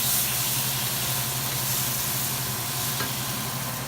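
Clams cooking in plenty of oil with garlic in a small pan, giving a steady, dense sizzle and crackle that runs loud and unbroken throughout, with no talking.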